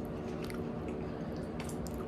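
Close, quiet chewing of a potato chip cookie, soft crunching and squishing bites repeating over a faint background, with no talking.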